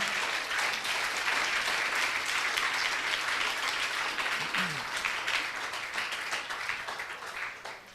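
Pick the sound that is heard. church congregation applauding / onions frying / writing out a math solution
church congregation applauding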